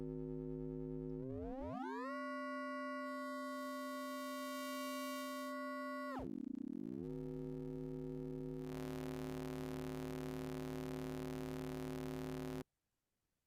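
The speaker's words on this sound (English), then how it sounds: "Changing the wavetable." A modular synthesizer oscillator holds a loud buzzy tone as its wavetable changes, shifting in brightness and swooping once in the middle before cutting off abruptly near the end, with no voices.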